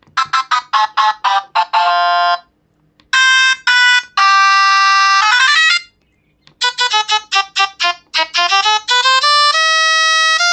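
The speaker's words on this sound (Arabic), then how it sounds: "في أكتر من نغمة ربابة بقى معانا" Rebab voice tones on an electronic organ keyboard, a run of short bright reedy notes in quick rhythmic bursts and a few longer held tones, separated by brief pauses, loud and close with no talking.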